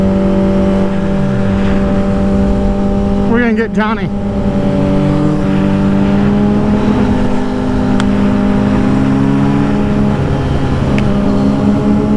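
A car engine drones loud and close, its pitch rising and shifting as it accelerates along the road, while someone talks briefly over the noise.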